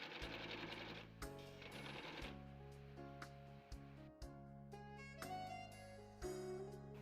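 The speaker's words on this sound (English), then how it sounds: "so just sew it all the way around." Sewing machine stitching around the edge of a beginner's skirt made from one yard of fabric, a steady motor whir in short runs with brief pauses between bursts, close and continuous with no talk.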